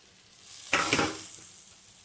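Shrimp and grated coconut frying in a pan, a soft sizzle that swells into one brief scraping stir with a rush of hissing, then fades back to a low simmer.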